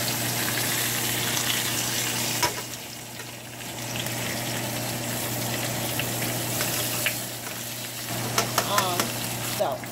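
Lamb chops fry in a hot pan with a continuous close sizzle and crackle, joined by a few light clinks and spatters toward the end.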